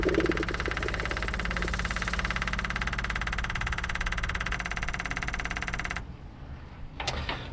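Old GMC truck engine, abandoned for decades, churns steadily after fuel is pumped into its carburetor, a loud rhythmic knocking drone lasting about six seconds before cutting off, then a brief faint burst near the end.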